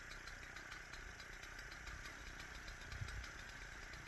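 An old Japanese three-row rice paddy weeder engine idles with a faint, steady, rhythmic chugging and light rattle, heard at low level with no one talking.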